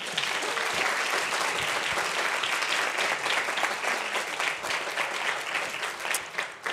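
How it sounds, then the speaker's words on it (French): A sustained, dense round of applause from an audience at a university thesis competition final, steady and full throughout before easing slightly near the end, with no talk over it. "On peut les applaudir aussi."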